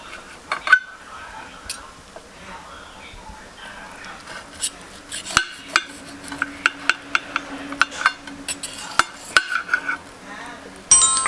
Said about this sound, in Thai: ทาเสร็จแล้วก็ต้องใช้มีดหั่นนะครับ